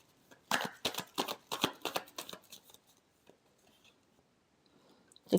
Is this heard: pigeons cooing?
no